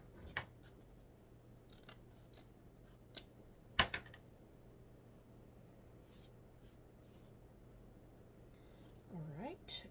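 Scissors snip a dovetail end into Mother's Day ribbon, giving several quiet, crisp cuts scattered over a low hum, followed by a soft rustle of the ribbon at the end.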